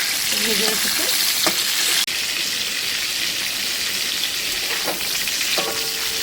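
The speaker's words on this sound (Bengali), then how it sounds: "দেখুন পটল লাল লাল করে ভেজে উঠেছে।" Pointed gourd fries in hot mustard oil with a constant loud sizzle and crackle, joined by occasional stirring scrapes and brief faint voices.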